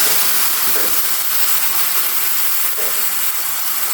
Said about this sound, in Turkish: Evet şimdi suyunu ilave ediyorum.